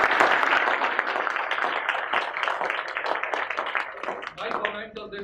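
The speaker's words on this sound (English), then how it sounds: "ढेर सारी तालियां बजाएं" An audience at a corporate talk applauds with dense, rapid clapping that is loudest at first and thins toward the end, with voices heard amid the clapping.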